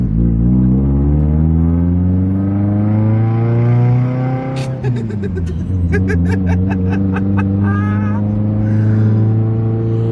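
A Mitsubishi Lancer Evolution VIII with a Tomei Expreme titanium exhaust drones at a deep, steady pitch, then rattles with sharp popping bursts from the exhaust; close and dominant throughout.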